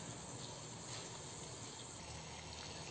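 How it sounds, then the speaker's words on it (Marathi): A pot holding two cups of water boils on the stove while a kadha is being prepared, giving a steady, dense hiss and rushing bubble noise with no break or voices. "तर आपलं पाणी उकळतंय म्हणजे"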